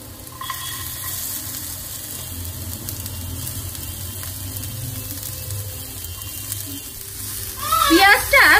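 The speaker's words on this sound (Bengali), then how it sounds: "পেঁয়াজটা ভালো করে কিন্তু লাল লাল করে ভাজবো না, হালকা বাদামি করে ভেজে নিয়েছি" Onions frying lightly in a pan with chopped garlic, a soft continuous sizzle with low background rumble, then a louder burst of bright hissing near the end.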